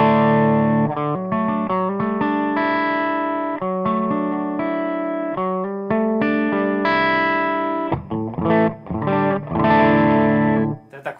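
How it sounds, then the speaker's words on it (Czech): An electric guitar plays a melodic riff with chords and sustained notes through a Marshall Plexi-style distorted amp tone with a chorus-like shimmer, loud and continuous, with brief gaps near the end. "mám vlastně tady jako plexina, jako Marshall Plexi, legendární zvuk"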